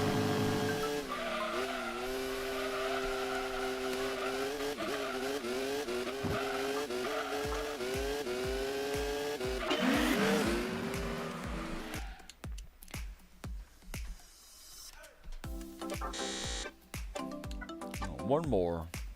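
Race cars in Gran Turismo 2, including a Pennzoil car and an NSX, roar with rising and falling engine pitch, shifting gears and squealing tires, loud and continuous before choppier bursts near the end, with a voice talking over it.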